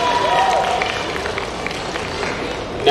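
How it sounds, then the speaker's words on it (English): Audience applause at the live launch event of the Indo American Community Alliance, a steady wash of clapping and crowd noise filling the room, with a voice talking over it. "Can we get another round of applause for our answers here?"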